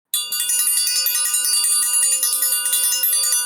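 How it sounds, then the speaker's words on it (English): A struck bell rings out suddenly after a brief silence, then keeps sounding in a fast, even series of bright metallic strikes with long shimmering overtones, loud and close, with no talk. "we're ringing the bell for that"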